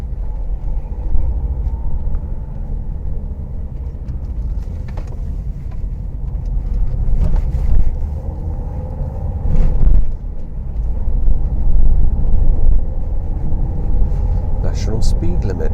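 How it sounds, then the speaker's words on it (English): Steady low rumble of road traffic, vehicles passing at a distance with a few louder swells, heard from inside a moving car. "Seems to be a lot of traffic on this road."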